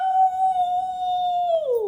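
A person imitates a wolf with a single sustained, loud vocal howl that holds one pitch before sliding downward at the end, heard alone.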